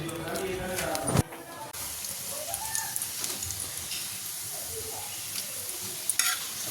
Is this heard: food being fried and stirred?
yes